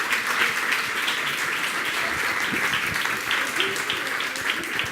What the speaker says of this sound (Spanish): Un aplausito, hombre.